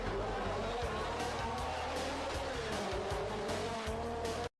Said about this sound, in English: I love that fucking ripping engine